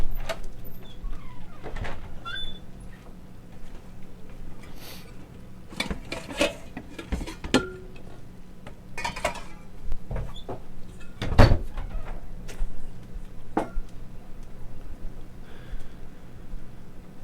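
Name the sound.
grabbing a bowl from the kitchen cupboard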